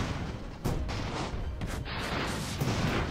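Rockets fire from an airship in the video game Airships: Conquer the Skies, a dense rumbling barrage of booming launches and blasts that overlaps continuously, loud and close, without talk.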